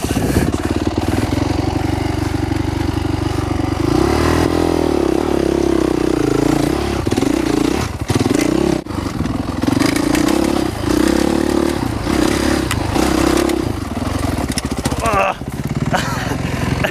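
A motocross motorcycle engine revs and labors continuously, rising and falling with throttle changes and rattling over rough ground, loud and close, with a rider talking at times.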